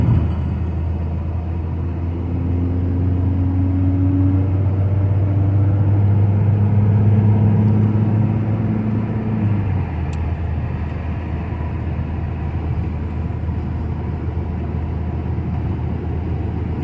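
A Mini car drives on a road, its engine droning low and steady from inside the cabin, tones rising as it accelerates and then settling into a constant rumble of road noise.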